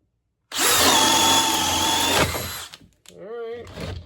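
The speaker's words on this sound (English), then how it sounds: "now we got a 1 1/4 Diablo Speed Demon bit. Obviously speed 2, and in drill mode using the same battery" A DeWalt DCD806 drill in drill mode at speed 2 spins a 1 1/4 Diablo Speed Demon bit, boring loudly and steadily for about two seconds before winding down, followed by someone talking briefly.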